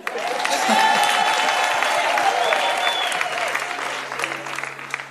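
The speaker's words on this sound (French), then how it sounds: "Applaudissez pour lui" Church congregation applauding their pastor, a full swell of clapping with some cheering that rises quickly, holds loud and steady, then thins toward the end while a voice carries over it.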